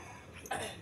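A single short cough, faint and close, rising briefly out of a quiet indoor background in a home setting.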